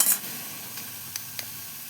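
Stuffing for pointed gourd dolma frying in a pan gives a faint, steady sizzle, with a couple of small stirring clicks and no voices.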